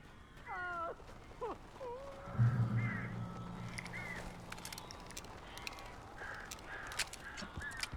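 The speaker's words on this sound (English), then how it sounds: "These birds are weird." Crows caw in Alan Wake Remastered, several harsh, wavering calls near the start followed by scattered squawks and flutters over a low droning game ambience, with no talking.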